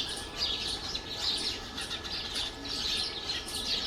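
A flock of sparrows chirps steadily in an autumn-stricken backyard pomegranate tree, a dense, continuous chatter of overlapping high tweets, fairly close and loud, with no voices.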